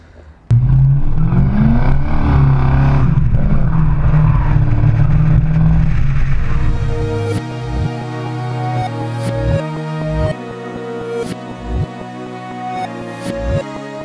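A Mercedes-Benz 560 SEC AMG with a 6-liter engine drives hard, its loud low engine roar building steadily for several seconds before easing off, then followed by music with sharp percussive hits.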